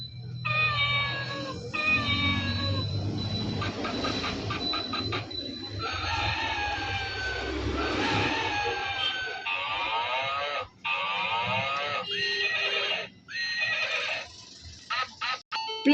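A toy baby phone plays electronic animal sounds for its pictures: a run of recorded meows, a horse's whinny, rooster crowing and other calls. They come in short bursts one after another, close and fairly quiet.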